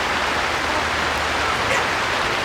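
Steady rainfall hisses loudly and evenly throughout, a dense wash of drops with no voices.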